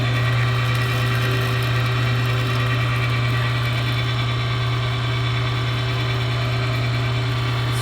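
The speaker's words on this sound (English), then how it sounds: "So let's shove this stuff through the grinder" An electric meat grinder forces ground pork and lamb through for Croatian cevapi, giving a steady, loud motor hum with constant whirring vibration throughout, no voices.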